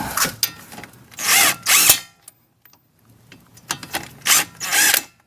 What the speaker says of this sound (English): you could probably even use the impact gun for some of it